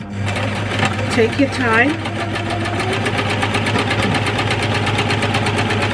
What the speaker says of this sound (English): I am literally sewing on that line all the way down.